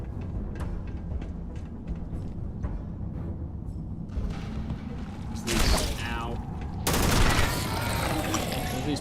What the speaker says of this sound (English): Alright, I'm gonna use a real gun now.